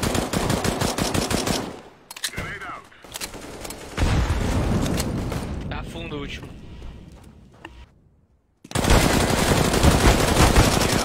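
FAMAS rifle fire in a video game: dense bursts of automatic gunfire open the clip, then scattered shots and game noise under a voice, before another loud sustained burst at the end.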